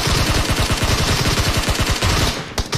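Rapid bursts of gunfire in a mobile shooter video game as shots strike an enemy, dense and loud, continuous rattling for most of the clip before breaking off near the end.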